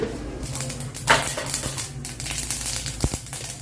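Mustard seeds crackle and pop in hot oil in a pan: a continuous close hiss dotted with sharp, irregular snaps.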